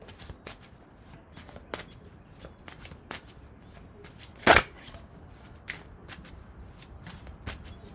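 Tarot cards are shuffled and handled during a love reading, with soft riffling and light card taps plus one sharp louder slap near the middle, quiet and close.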